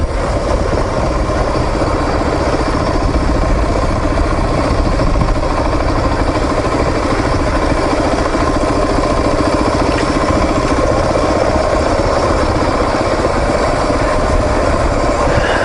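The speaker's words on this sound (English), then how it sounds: "The DR is just idling down the hill." A steady, droning dual-sport motorcycle engine idles continuously while coasting downhill, under rushing wind and road noise, with no pauses or changes in pace.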